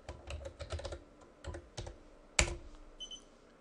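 A password is typed on a computer keyboard in quick, close clusters of keystrokes, followed by one sharper key press and a faint short tone afterward.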